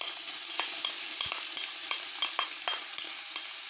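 Onions fry in a pot of hot oil for meat kabsa, a continuous close sizzle with frequent light clicks and scrapes of stirring, and no voices.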